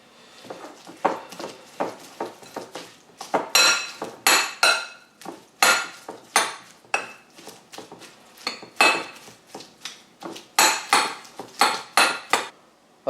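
A spoon stirs a mustard and mayonnaise mixture in a bowl, a long run of rhythmic clinks and scrapes against the dish, close and fairly loud with no voices.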